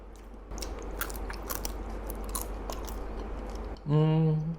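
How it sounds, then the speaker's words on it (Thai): Someone bites into an extreme spicy baked squid snack with crisp, repeated crunches and chewing close to the mic, ending with a short hum of a voice. "เรามาลองชิมเลย เป็นหมึกอบนะ"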